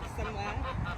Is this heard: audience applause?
no